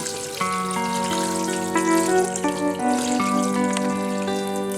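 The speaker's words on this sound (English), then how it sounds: "Now we will run it under cold water." Cold water runs steadily from a kitchen tap into a sink over just-drained pasta, a continuous splashing stream with a faint ringing tone over it.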